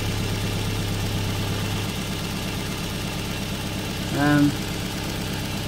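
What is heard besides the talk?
Toyota minivan engine idling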